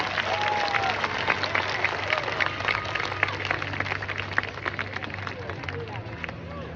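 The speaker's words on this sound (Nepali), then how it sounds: "हामी अझै एकचोटि यहाँभित्र प्रवेश गर्दै गर्नुभएका साथीहरूको लागि सबैले एकचोटि जोरदार तालीका साथ स्वागत गर्नेछौँ" Lively, continuous applause from a large crowd at an Easter Sunday gathering, welcoming people as they enter: dense, steady clapping that stays loud and close throughout, with faint crowd murmur beneath.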